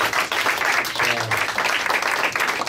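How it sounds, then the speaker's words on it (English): Comedy club audience at a tavern applauding the hosts, a dense, sustained round of clapping from a crowd, fairly loud and close, with a voice briefly heard beneath it. "Give them another round of applause."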